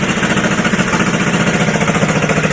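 An old Honda ATC 185S three-wheeler engine idles after an ignition repair, producing a loud, close, steady rapid chugging with an even mechanical beat throughout.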